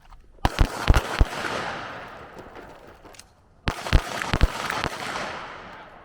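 Handgun shots fired during CCW training on an outdoor shooting range, two quick clusters of sharp cracks, each burst rolling off in a long echoing decay, with no talk.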